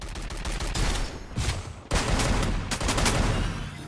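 Rapid bursts of gunfire from the mobile battle royale game Free Fire, loud and dense, with close-range shots firing in quick repeated volleys and no talk over them.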